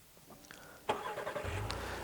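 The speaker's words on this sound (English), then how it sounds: "if you want to activate the remote start, push and hold the lock, or push the lock button, then push and hold this button right here." A 2019 Honda Passport engine starts by remote start: a soft click, then a sharp crank and catch, settling into a steady low idle rumble, near and fairly quiet.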